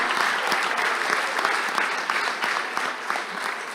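An audience of students at a CMA USA convention seminar gives a steady, full round of applause, close and dense, with a faint voice underneath.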